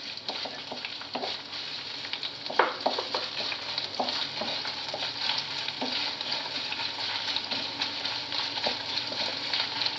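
Finely chopped garlic frying in hot oil for bitter gourd thokku, a steady close sizzle with occasional stirring clinks and scrapes, no talking.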